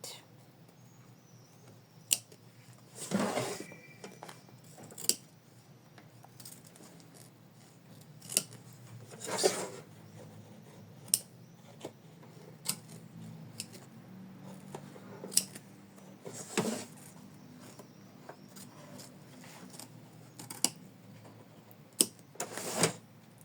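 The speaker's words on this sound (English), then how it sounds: "So next we need to trim it." Scissors snip around a felt heart, scattered close crisp cuts in irregular bursts over a quiet background, some snips louder than others, with faint low murmuring in places.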